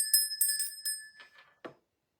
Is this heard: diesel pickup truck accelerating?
no